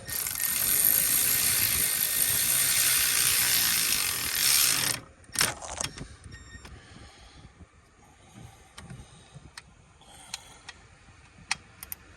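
A ratchet spins in a loud continuous buzz for about five seconds while tightening a plastic thermostat housing on a 2015 Jeep Grand Cherokee, then stops, followed by a few brief clicks and tool clanks in a quiet garage.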